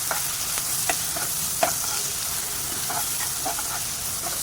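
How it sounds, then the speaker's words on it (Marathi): Onion sautéing in a pan makes a continuous frying sizzle, with repeated light clicks and scrapes of a spoon stirring it, close and steady throughout. "कांदा छान असताना परतवून घ्यायचंय आहे"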